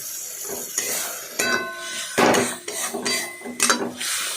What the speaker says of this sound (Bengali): জল দিয়ে নাড়াচাড়া করলাম